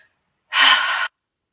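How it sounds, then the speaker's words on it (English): A single audible breath is pushed out through the mouth during a slow yoga breathing sequence, a soft, close airy rush lasting about half a second, set against silence on either side. "Inhale, tucking the chin, drawing the shoulder blades down and towards one another, and then exhale through the mouth"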